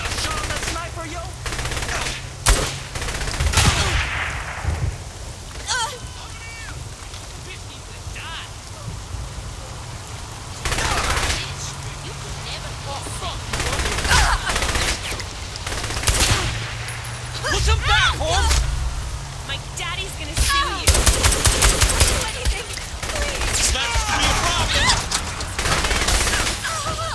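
Bursts of automatic gunfire from a sniper firefight in the video game Saints Row The Third, loud rapid volleys scattered through a busy mix of game effects, with a voice talking in places.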